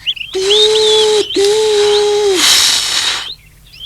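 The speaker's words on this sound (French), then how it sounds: "Et les deux bateaux commencent à avancer et sifflent tant qu'ils peuvent." Two long, steady whistle blasts sound back to back, followed by a burst of hissing steam, fairly close and loud.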